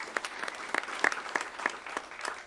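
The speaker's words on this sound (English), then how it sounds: "So give Owen a round of applause." Sparse, scattered clapping from a small audience at a college board of regents meeting, honoring Owen, with a dozen or so distinct claps spread unevenly over a couple of seconds at a moderate distance.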